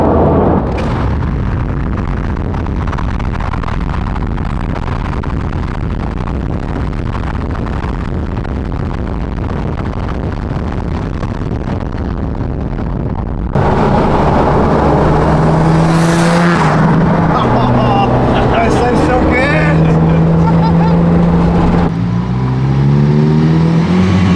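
A big-turbo Mitsubishi Evo IV, built to make around 700 horsepower, runs on a rolling road, droning steadily before bursting into loud, roaring revs with rising and falling engine pitch.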